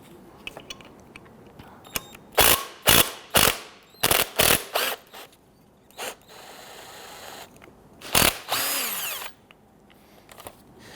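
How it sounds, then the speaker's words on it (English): A ratchet spins off the brake caliper slide pins on a 2010-2019 Ford Taurus in several short, loud, close bursts of clicking, with a longer run near the end and quiet gaps between. "We'll go ahead and remove our slide pins."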